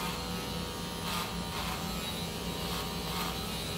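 An electric hair clipper buzzes steadily while cutting very curly hair in a traditional haircut, a close, even drone with faint rubbing as it moves through the hair.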